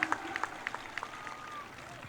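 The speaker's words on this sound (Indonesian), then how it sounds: "boleh tepuk tangan untuk teman-teman yang sudah mendapatkan juara" An audience at an Indonesian Ministry of Religious Affairs ceremony for Hari Santri 2019 claps for competition winners, producing a short burst of scattered, moderately distant applause.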